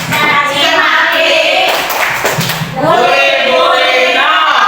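Schoolchildren perform an anti-bullying clapping chant in a classroom, loud rhythmic group clapping mixed with singing voices that carry on continuously.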